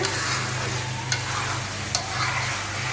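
Onions frying in a pan for a chicken bhuna give a steady close sizzle, with two brief sharp clinks of stirring cutting through the continuous hiss.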